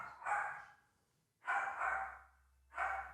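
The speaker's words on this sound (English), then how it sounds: "This little dog." A small dog barking three times, each bark a drawn-out, reedy yap with pauses between, heard somewhat at a distance with a low hum underneath.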